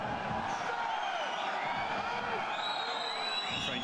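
A French rugby league crowd at a Catalans versus Warrington cup match jeers and whistles at the referee, a dense continuous roar of voices with rising whistles, steady and loud throughout.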